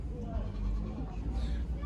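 Goats for sale at a livestock market in Kyzylorda bleat amid a steady crowd murmur, with people talking throughout the short stretch.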